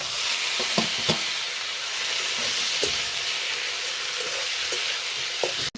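Paste of ginger, cumin, garlic and green chili hitting a hot frying pan on a small stove, a loud continuous sizzle with occasional scrapes and clicks of stirring.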